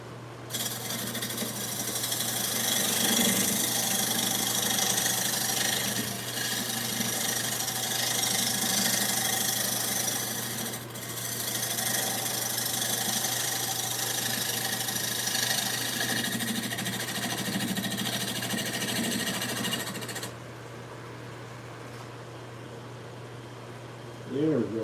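Wood lathe spinning a wooden platter in a shop, a continuous motor hum with a bright scraping and rubbing texture from cleanup work, steady throughout before easing off near the end, with some talk underneath.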